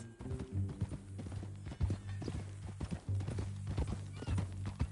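Horse hooves clip-clop at a steady walking rhythm in the Red Dead Redemption 2 video game, close and fairly loud, with a low droning tone underneath and a brief snort or whinny.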